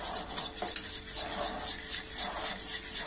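Milk and oil being stirred together for a cake batter, a spoon scraping and clinking steadily against a bowl in a quick repeating rhythm, close and moderately loud.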